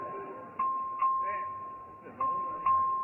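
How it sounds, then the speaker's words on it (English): A clerk rings the voting bell in a legislative chamber for a record vote: a sustained electric ringing tone punctuated by repeated paired dings, moderately loud and without talk. "Clerk will ring the bell."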